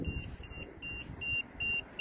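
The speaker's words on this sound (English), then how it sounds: "When it starts beeping, that means it's harmful." A handheld radiation meter beeps faintly in a regular repeating pattern, four or five short tones evenly spaced over a low background rumble, recorded underground in North London.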